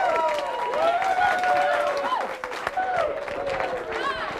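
Audience applause for magician Steve Bedwell at a live magic show, steady clapping throughout with loud voices and whoops riding over it.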